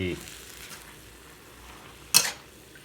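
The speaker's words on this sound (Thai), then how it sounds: "วันนี้ก็ผัดผัก" Vegetables stir-fried in a pan give a low, steady sizzle, with one short, sharp clatter near the end as the spatula knocks the pan.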